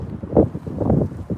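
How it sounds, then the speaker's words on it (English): Strong wind blows outdoors, coming as low buffeting gusts and rumbles that swell and fade in uneven bursts against the microphone, with no talk. "It is very windy."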